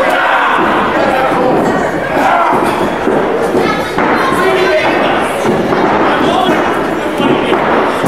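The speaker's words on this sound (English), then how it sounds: "Crowd is just razzing this kid." A wrestling crowd jeers and razzes a young wrestler, a dense, steady roar of many voices with shouts and scattered thuds running throughout.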